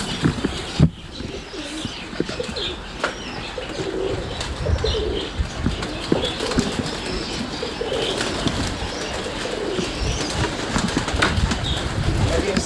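Doves and cockatiels kept by a breeder fill an aviary with steady cooing and chirps, interspersed with occasional wingbeats and rustling, continuous and fairly close throughout.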